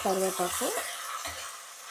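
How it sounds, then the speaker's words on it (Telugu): Curry leaves and a pinch of turmeric hit hot oil in a pulihora tempering, crackling and sizzling loudly at first, then settling into a fainter steady fry, with a brief voice and a stir near the start. "కరివేపాకు వేసాను, కొద్దిగా పసుపు వేసాను."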